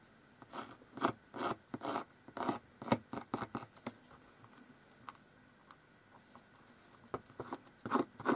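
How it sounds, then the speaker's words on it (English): Recycled wooden drink stirrers being scratched to roughen their surfaces for glue, heard as a run of short, dry, close scraping strokes in uneven bursts with brief pauses between them. "I'm not cutting them in chunks, I'm just literally scratching them."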